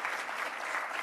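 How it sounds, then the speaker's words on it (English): Steady audience applause at a mayoral conversation event in Cleveland, a dense, even wash of many hands clapping at moderate volume with no voices over it. "Let's give her a round of applause if we can."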